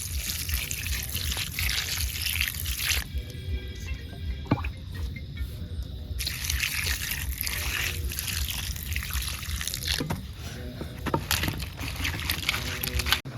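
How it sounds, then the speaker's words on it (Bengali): Live crabs being rinsed clean in water during an outdoor group cooking session, with steady splashing, trickling and pouring sounds running throughout, occasional knocks and drips breaking through the continuous wash. "কাঁকড়াটা ধুয়ে ফেলো"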